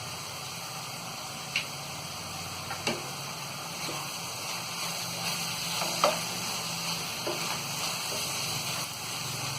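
Ground tomatoes and garam masala fry on a tawa for pulao, a steady low sizzle with a few faint spoon taps and clinks against the pan, no voices.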